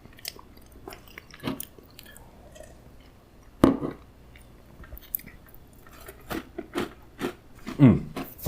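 Someone bites into and chews an oatmeal raisin cookie from an MRE ration, giving scattered crisp crunches and a few louder bites, close to the mic in an otherwise quiet room.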